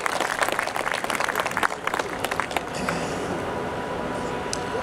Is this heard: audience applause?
yes